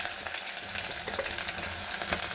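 Crushed garlic frying in hot oil with mustard seeds for a fried-fish curry, a loud dense sizzle with sharp spluttering pops crackling continuously throughout, close and without any voices.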